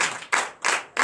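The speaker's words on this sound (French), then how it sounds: "Donnez l'acclamation à Jésus." A church congregation claps in three bursts of quick hand claps separated by short pauses, close and lively, with no voices on top.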